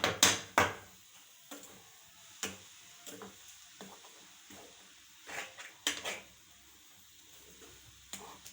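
Coconut ladoo mixture being stirred in a pan at home, with intermittent scraping and clanking knocks of a spoon against the pan, sparse and close, with quiet pauses between strokes.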